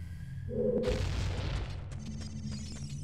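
A creature blows up in Dodongo's Cavern in Zelda: Ocarina of Time. A brief game tone is cut off by a single loud booming explosion that rolls into a decaying rumble, followed by softer in-game sounds and no voices.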